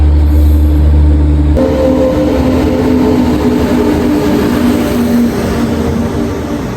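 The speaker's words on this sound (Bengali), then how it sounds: "ফাইনালি অনেক অনেক ওয়েটের পর আমাদের ট্রেন চলে আসছে" A loud, close express train arriving at a platform rumbles past with a steady low drone and rattling, a horn-like tone sounding briefly at the start.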